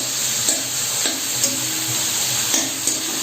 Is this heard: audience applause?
no